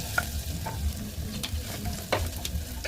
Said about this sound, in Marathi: थोडंसं असं परतू द्यायचं छान.